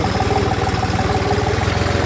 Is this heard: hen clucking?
no